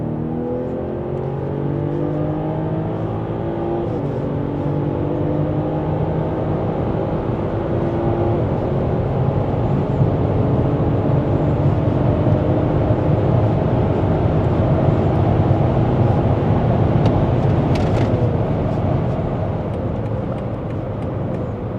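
A Stage 1 tuned car accelerates hard at full throttle along Kern Raceway, its engine drone rising steadily through the gears, with shift steps breaking the climb, loud and continuous for over twenty seconds with no talk.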